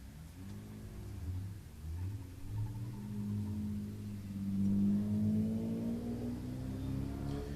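A BMW drift car revs on the course at a drifting competition, its engine a fairly distant, rising and falling rumble with a few swells in pitch.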